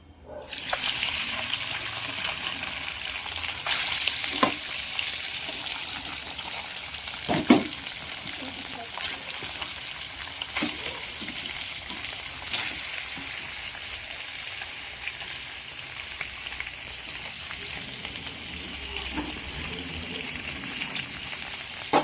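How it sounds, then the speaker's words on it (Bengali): Paneer pieces frying in hot oil give a loud, continuous hiss that starts abruptly and holds steady, broken by occasional clicks and scrapes in the pan. "এখানে আমার তেল গরম হচ্ছে। তো আমি পনিরটা ছেড়ে দেবো।"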